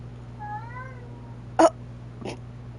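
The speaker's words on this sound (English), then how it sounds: "You're probably hearing my cat in the background." A pet cat meows faintly in the background of a room while Genshin Impact is being played, one soft wavering meow followed by two short sharp clicks or thumps over a steady low hum.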